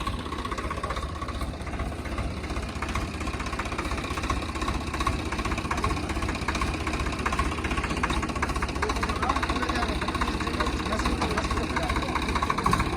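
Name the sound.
Swaraj 855 tractor engine idling with rotavator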